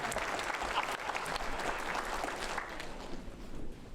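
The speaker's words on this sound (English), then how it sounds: "give yourself a big round of applause" A crowd at a Ladysmith-Oceanside all-candidates debate for the BC election breaks into strong, sustained applause, dense clapping from many hands that holds steady and fades slightly toward the end.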